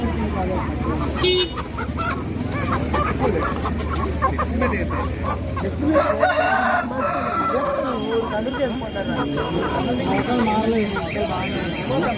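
A rooster crows amid clucking fowl and a busy background of people talking nearby at a village market.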